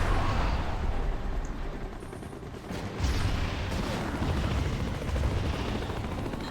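Loud, continuous rumbling explosions and blasts of planes blowing up in Transformers: The Game roll on throughout, dense and close, with no clear gaps between them.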